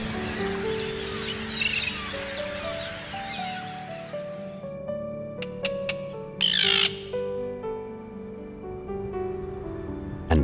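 Terns call at a summer nesting colony of tens of thousands of birds, a dense chorus of harsh squawks early on, then a few sharp, close cries, heard under a soft musical score.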